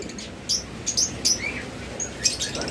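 Pet lovebirds, cockatiels and budgerigars of local breed give short, high chirps at a quick irregular pace, close and clear over a low background hiss.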